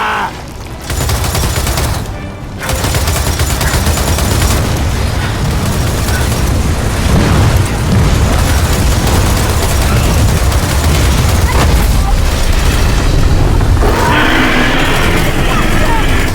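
Sustained gunfire and explosions from a Gears of War 4 battle, loud and dense throughout with bursts and booms, and voices shouting over the combat.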